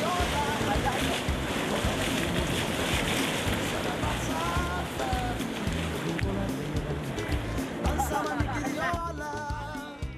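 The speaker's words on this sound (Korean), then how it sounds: "오늘 좋아하는 코스의 파도를 만난 까덱" Ocean surf breaks off Bali where a local surfer rides the waves, a steady, roaring wash with gusty wind noise running throughout beneath a speaking voice.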